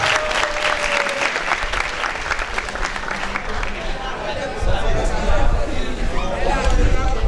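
Audience applause at a national patriotic slam poetry championship, steady clapping with crowd murmur and voices mixed in, swelling louder toward the end.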